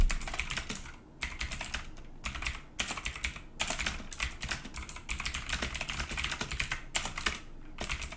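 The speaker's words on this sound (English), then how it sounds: "let's type that again" Steady bursts of keystrokes on a PICTEK mechanical keyboard with blue Jixian switches, clicky and close, running in quick rhythmic runs broken by short pauses, with no talking.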